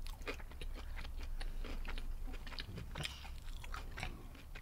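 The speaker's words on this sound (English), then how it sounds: "I really like the crunchy tail." Close, continuous biting and chewing on a crunchy shrimp tail during a shrimp meal, with rapid crackling crunches packed tightly for several seconds and no speech.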